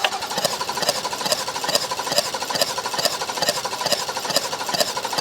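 BMW M3 engine cranking over on the starter during a cylinder compression test, giving a steady, rapid rhythmic churn of even pulses that stays loud and close throughout.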